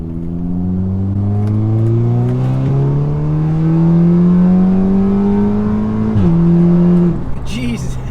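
A tuned Audi S3 with a Vortex XL upgrade accelerates hard, its engine note climbing steadily through the revs, then dropping at a gear change before pulling again, loud and close from inside the car.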